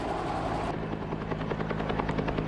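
A Cobra attack helicopter at an army gunnery exercise, its rotor chop and turbine whine loud and steady, with rhythmic blade thumps pulsing close by.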